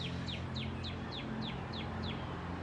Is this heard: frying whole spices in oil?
no